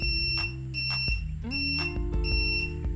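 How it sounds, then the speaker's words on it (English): A steady electronic tone from a multimeter continuity test on a lightsaber chassis switch sounds continuously, shifting pitch slightly as the switch clicks, held for several seconds. "when I click it I should hear a beep"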